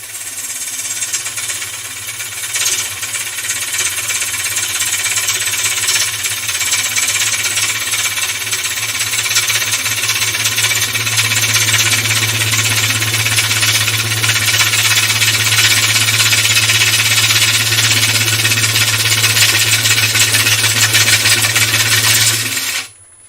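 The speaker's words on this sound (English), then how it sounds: "This is the one of the Glenn Lucas Hamlet bowl gouges." Wood lathe spinning a large platter while a Glenn Lucas Hamlet bowl gouge cuts it: a steady, loud, continuous hum with a broad scraping hiss over it, running unbroken for most of the stretch before stopping abruptly at the end.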